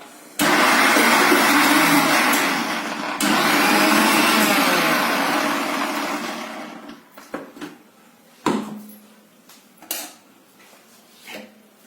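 Kitchen mixer grinder blending mango and coconut chutney: a loud, steady high-pitched whirring motor in two bursts of about three seconds each, a brief pause between them, then the motor winding down, followed by a few clattering jar and lid knocks.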